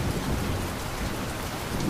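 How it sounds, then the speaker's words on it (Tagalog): Heavy rain pours steadily in a dense, even hiss, with low thunder rumbling underneath throughout; no voices. "umulan ng malakas at may kasamang pagkulog at pagkidlat"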